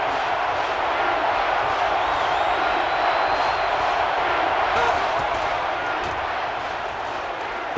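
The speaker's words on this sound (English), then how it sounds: "This crowd a huge factor right now against this offense." A stadium crowd in the NCAA Football 13 video game roars in a dense, continuous wash of cheering, with play-by-play commentary speaking over it.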